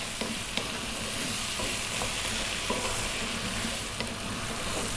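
Vegetables frying in a pan and stirred often, a continuous loud sizzle with spoon scrapes recurring every second or so, close up and without talk.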